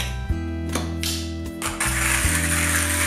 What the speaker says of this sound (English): I've pre-measured 27 grams of this bean right here, and I'm gonna put it in to my grinder